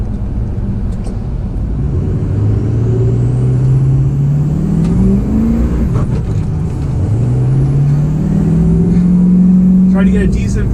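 A Ford 6.0 Powerstroke diesel truck with an IDP Ultimate X tune accelerates hard on wet ground, its engine note rising and falling through loud, close revs with a brief dip between pulls.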